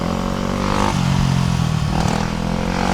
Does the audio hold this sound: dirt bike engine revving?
yes